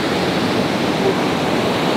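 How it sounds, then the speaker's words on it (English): Steady roar of ocean waves breaking at a surf spot, loud and continuous broadband wash with no voices over it. "looking at these waves"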